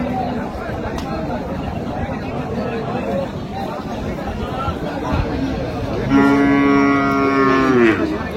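A cow mooing at a busy cattle market in Dinajpur: one long, loud, tonal low near the end rises above a steady hubbub of crowd chatter and nearby voices.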